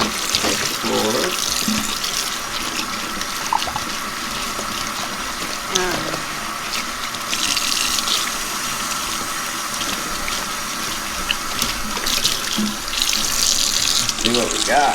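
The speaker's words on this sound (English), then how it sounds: "let me rinse out the middle real good." Running tap water splashes steadily over a green and blue wedge tie-dye T-shirt being rinsed under a faucet in a sink, a continuous close gushing that holds for the whole stretch with faint handling sounds.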